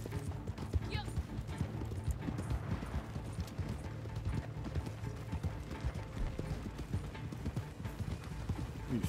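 Horse hooves galloping in the Red Dead Online video game make a steady, rapid clip-clop over busy in-game background noise, moderately loud and continuous for the whole stretch.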